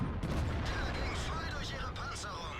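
Tank cannon fire in World of Tanks during a battle involving an E 75, dense booming gunfire rumbling continuously through a short stretch with a busy low-end roar, with speech over it.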